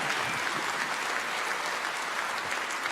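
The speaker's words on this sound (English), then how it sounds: "Can we have a massive round of applause to that gentleman in the middle for his incredible generosity?" Steady applause from a convention crowd at PAX Australia 2017, dense clapping that holds at an even level throughout with no voices standing out.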